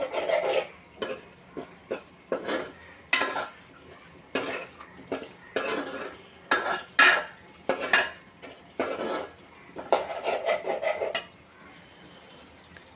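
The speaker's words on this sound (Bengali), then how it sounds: "মশলার মধ্যে কেটে রাখা আলুগুলো দিয়ে কষিয়ে নিচ্ছি" Cut potatoes are sautéed with spice paste in a pan, heard as a close series of rhythmic scraping strokes of a utensil against the pan, roughly one or two per second, ending after about eleven seconds.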